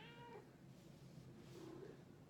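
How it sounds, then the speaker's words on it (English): A single soft cat meow, quiet and close, followed by a faint second mewing sound in a hushed room. "I don't know if you guys can hear that meow"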